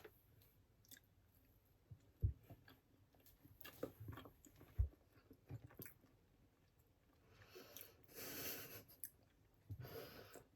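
Close, quiet biting and chewing of Dubai chocolate, with soft crunches and wet mouth sounds in irregular bursts, a few sharp bites standing out, and breathing between them.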